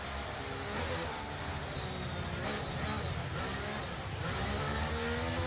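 F1 car engines humming and revving on the formation lap in the F1 23 racing game, a continuous buzzing drone with rising and falling pitch sweeps, steady and fairly loud throughout.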